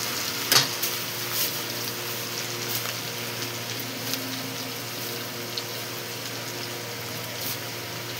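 Panch phoron, chopped onion, ginger and garlic fry in hot oil for a Bengali fish-head dal, giving a steady close sizzle broken by occasional clicks and scrapes from stirring.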